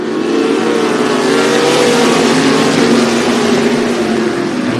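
Limited sprint class race cars roar at the green flag during a main event, a loud, dense, sustained engine drone with overlapping revving tones from a pack of cars accelerating together.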